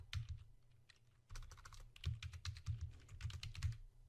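Fingers type on a computer keyboard while entering spreadsheet criteria, quiet close clicks arriving in quick irregular bursts with brief pauses between them.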